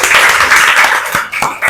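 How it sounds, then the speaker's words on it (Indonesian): Audience applause in a classroom gathering, a steady wash of many hands clapping close and loud throughout, thinning slightly near the end. "tepuk tangan untuk Stes"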